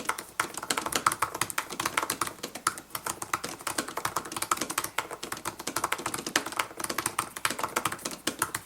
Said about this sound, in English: it is a bit noisier than some of Apple's previous keyboards, so I'll let you listen to it so you can get a feel for it for yourself